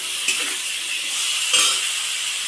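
Chickpeas with chopped tomato and chilli fry in a pan, giving a steady soft sizzle with a couple of brief stirring scrapes, close and fairly quiet.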